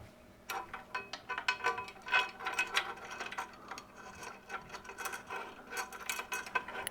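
Ratchet wrench working a bolt on an AltRider cylinder head guard of a BMW 1250 GS/A motorcycle, with rapid, faint, close-up ratcheting clicks in irregular bursts going back and forth throughout.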